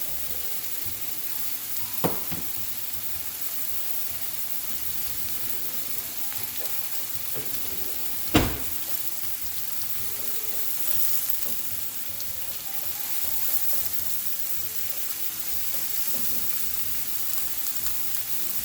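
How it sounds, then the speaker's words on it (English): Mushrooms fry in a tablespoon of olive oil in a pan, with green onions going in for a creamy red wine mushroom sauce. A steady, even sizzle runs throughout, broken by two sharp clunks of the utensil or pan. "we are going to add the mushrooms"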